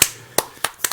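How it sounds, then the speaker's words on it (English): A single person applauding in a studio setting: four sharp, separate claps spread over about a second, close and fairly loud, with no voices over them. "You get an applause from me."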